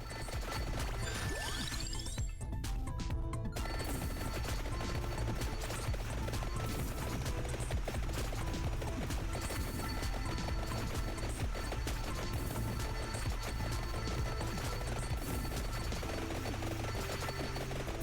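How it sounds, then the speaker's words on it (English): Fireworks weapon effects in the video game Vampire Survivors crackle and burst in rapid, dense volleys over constant game music, a busy layered clatter that never lets up. "now it's fireworks time"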